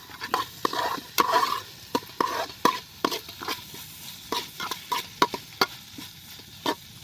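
A utensil scrapes and clacks against a pot of chicken curry in irregular strokes over a soft sizzle of frying food.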